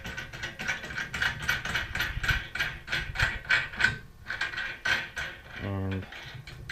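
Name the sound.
screwing feet into aluminum frame load cells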